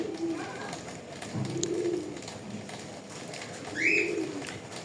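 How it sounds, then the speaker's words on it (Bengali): A white pigeon coos in low, soft bursts, three rounded murmurs spaced a second or so apart, close by, with a brief higher chirp near the end and light background rustle. "এটা হচ্ছে আমার সাদা কবুতর।"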